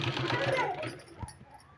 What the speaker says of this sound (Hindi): इसको इस तरह से फोल्ड करेंगे और इसमें इस तरह से सिलाई लगा देंगे